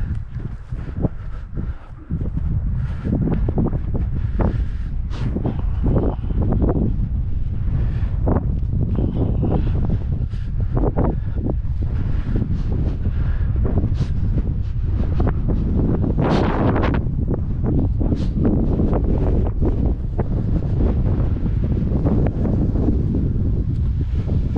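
Strong wind gusts buffet an outdoor microphone, a loud, steady roaring rumble with constant broadband noise and scattered bumps, filling the whole stretch without speech while people ready a model aircraft for launch.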